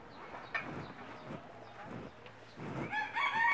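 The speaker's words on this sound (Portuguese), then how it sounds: "Olha o tanto de frango." Chickens cluck and a rooster crows nearby in a rural rodeo-training yard, the bird calls rising over a low murmur of voices and background noise.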